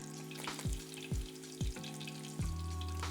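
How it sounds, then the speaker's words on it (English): A butter-basted shio koji rack of lamb fries in a hot pan over high heat, with a continuous close sizzle and four or five bursts of spooned butter spattering in a loose rhythm. "you increase the heat to high, and at this point you have to be very careful because the koji can easily burn. And you do one last round of basting."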